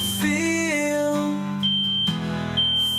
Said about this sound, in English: Fire alarm in this facility has a nasty habit of going off.